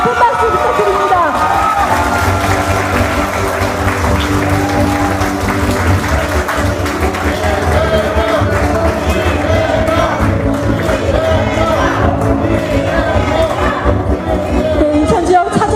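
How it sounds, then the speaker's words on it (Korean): A large crowd at an outdoor political rally in Incheon applauds and cheers continuously, dense and loud, with shouting voices and babble woven through. "대표님께 다시 한번 큰 박수 부탁드립니다"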